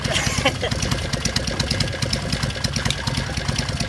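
Norton motorcycle engine idling at Bonneville, fitted with Mikuni carbs and Boyer Bransden ignition, a steady close pulsing rumble with sharp exhaust ticks throughout.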